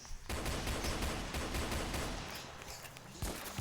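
Rapid video-game gunfire aimed at SpongeBob, a dense burst of shots that fills the first two seconds and then thins out, with no talking.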